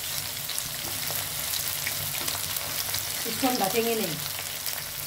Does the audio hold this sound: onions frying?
yes